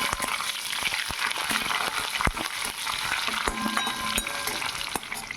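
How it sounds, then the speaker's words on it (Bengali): Loud, steady crackling sizzle of curry leaves frying in hot oil, with sharp pops and spatters scattered throughout and no voices. "কারি পাতা ভাজা হয়ে গেছে"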